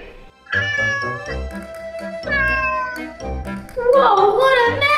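Kittens meowing in repeated high, wavering cries over a steady musical backing, loud and close, with a denser burst of overlapping mews near the end.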